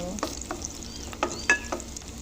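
Garlic frying in a hot pan, a steady soft sizzle broken by a few sharp clinks and scrapes of a utensil stirring, close and alone without talk.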